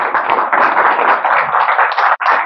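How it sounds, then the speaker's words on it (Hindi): A room of people at a morning business seminar clap for themselves in dense, steady applause that holds for about two and a half seconds, with a brief dip near the end before resuming, close and loud. "तो एक क्लैप सब अपने लिए बनाएंगे"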